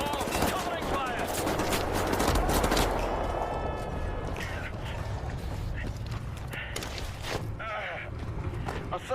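Rapid bursts of gunfire and scattered single shots crackle through a Wolfenstein video game battle, dense at first and thinning out, with distant explosions and no voices.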